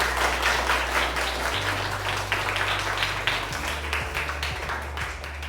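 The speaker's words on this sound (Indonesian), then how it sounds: "tepuk tangan untuk kelompok 1" Applause for a student group in a classroom, steady crowded clapping filling the room throughout, with a low hum underneath.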